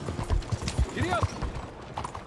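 A horse in the video game Red Dead Redemption 2 moving at pace, rhythmic hoof clip-clops thudding close by, with a brief squeal partway through and a rider's voice calling out over it.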